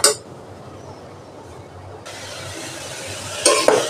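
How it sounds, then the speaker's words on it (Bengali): Oats khichuri with moong and masoor lentils, tomato, coriander, turmeric, ginger and garlic is stirred in a pan, giving a steady soft sizzle and scraping that grows louder midway, with a few brief clinks near the end. "নাড়তে থাকবো।"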